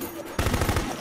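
A rapid burst of enemy automatic gunfire in the video game Full Spectrum Warrior, sudden and loud after a quiet moment, rattling in quick repeated shots.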